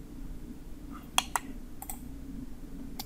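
Computer mouse clicks while working in Autodesk Inventor CAD software: a quick close double click, then a few fainter clicks spaced out over a quiet room hum.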